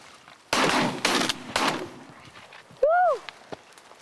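Several loud gunshots fired at a drake duck during a North Dakota waterfowl hunt, three sharp blasts about half a second apart, followed by a brief call and quieter outdoor sounds.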